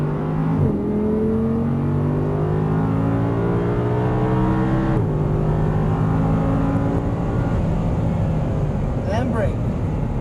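An Audi R8 accelerating hard on a race track at Exotics Racing Las Vegas, its engine note climbing steeply, dropping at two gear shifts, then rising again, loud and continuous throughout.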